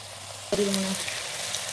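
Chicken sautéing in a pressure cooker pan: after a brief quiet, a sharp metallic clank of the utensil sets off a soft, close sizzle that continues faintly.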